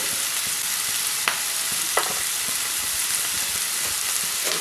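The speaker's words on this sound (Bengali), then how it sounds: "এবার সব উপকরণগুলোকে ভালো করে ভেজে নেব।" Ground chili, cumin powder and other spices frying with prawns in a pan, a steady close sizzle with a couple of sharp utensil scrapes and light stirring taps, no talking.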